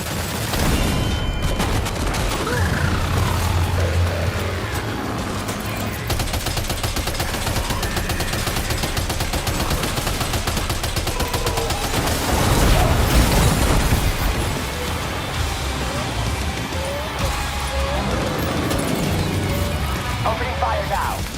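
Gunfire in the PS5 game Death Stranding 2: On The Beach, rapid bursts and booms crackling through a dense, busy game soundscape with music, growing heavier around the middle.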